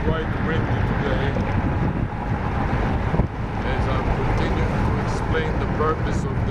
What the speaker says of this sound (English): You can see that it's quite windy today.